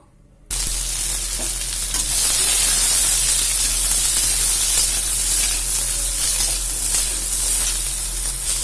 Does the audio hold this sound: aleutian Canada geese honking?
no